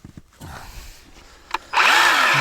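A Harbor Freight 10-inch electric chainsaw cuts into wood, starting after a few quiet knocks and handling sounds with a sudden loud, buzzing whine of the chain biting that holds steady to the end, with no talking.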